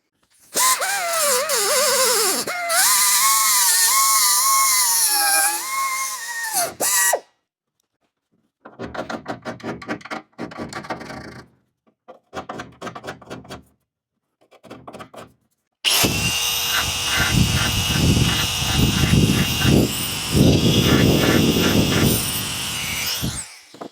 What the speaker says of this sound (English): I think we'll take the little belt sander to it